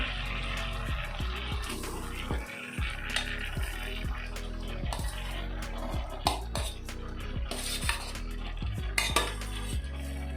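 Cooked rice added to a pot and stirred, with repeated clinks of a metal spoon against the pan in a steady, close, fairly loud rhythm and no talking.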